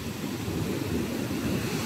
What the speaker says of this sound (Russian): Вот это волны! Да, много воды сейчас